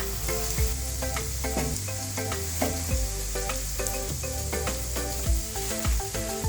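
Broad bean pakoda fries in hot oil, a dense continuous sizzle with occasional clatters, heard close under steady background music.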